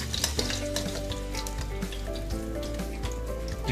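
Chicken lo mein frying in oil in a pan over a flame gives a loud, continuous sizzle with occasional stirring scrapes, close up and without voices.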